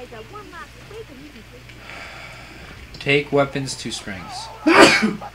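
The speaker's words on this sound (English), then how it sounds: "I sneezed away from you." A single sharp sneeze bursts out near the end, after a short sniff, among people chatting during a Borderlands: The Pre-Sequel gaming session.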